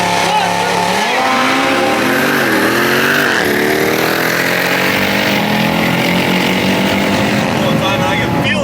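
A modified Golf R with a swapped Audi RS3 engine makes about 500 hp. It runs a quarter mile from a dig against a stock Jeep Trackhawk, and loud engine roar rises in pitch through the gears, with a voice talking over it.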